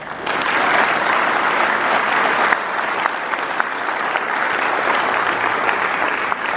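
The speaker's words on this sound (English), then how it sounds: "One more round of applause." A large crowd at a town supervisor inauguration ceremony in Riverhead gives a sustained, even round of applause that holds at a steady level from start to finish, with no voices over it.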